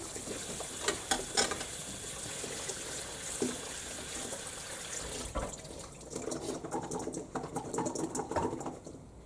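Cold tap water runs over vegetables being rinsed for chicken soup in a school kitchen. A steady, close splashing stream fills the first half, then gives way to lighter irregular patter and dripping.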